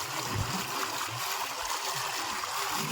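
Water from a running farm pump motor gushes and splashes in a continuous, even rush, close and steady throughout.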